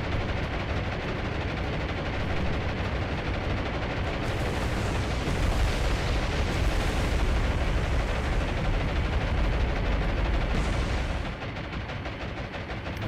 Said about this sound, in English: One torpedo hit and a couple of bombs onto the battleship